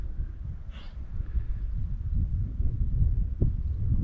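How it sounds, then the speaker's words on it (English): Strong wind buffeting the microphone outdoors at dusk in cold weather, a steady low rumble with gusty swells that grow slightly louder, plus a brief higher whoosh early on. "The wind is really blowing."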